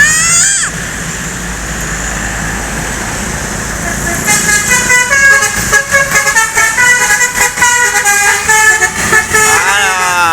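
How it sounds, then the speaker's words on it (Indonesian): A large intercity bus passing on a road in West Sumatra, sounding a loud musical multi-tone horn melody that rises over steady engine and road rumble, with a low voice heard in the mix. "Ada bus lagi ya."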